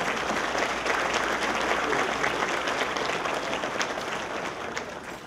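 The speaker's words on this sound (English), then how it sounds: "I'd like to acknowledge that for the past 8 years with another round of applause for Mr. Baker." An audience applauds steadily at a county public safety valor awards ceremony, dense sustained clapping filling the room at even loudness and tapering slightly toward the end.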